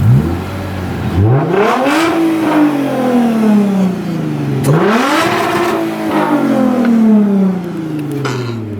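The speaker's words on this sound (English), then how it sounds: "See, it peels two wheels." A car doing a burnout in a store parking lot, the engine revving up and down in two long rising-and-falling swells as the wheels spin. It is loud and close, with no talking over it.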